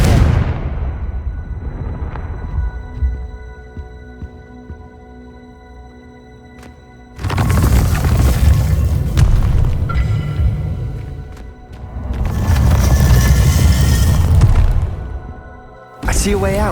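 Confringo fire-spell blasts in Hogwarts Legacy, two long roaring bursts of explosive rumble after a quieter stretch, with a third starting at the end; a voice speaks before the first blast.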